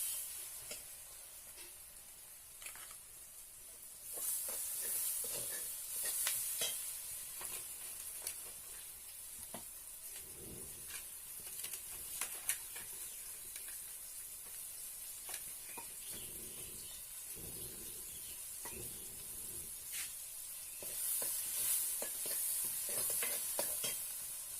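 Soybean chunks fry with browned onion in a pan for a banana flower curry, giving a continuous sizzle with stirring scrapes and occasional louder hissing bursts.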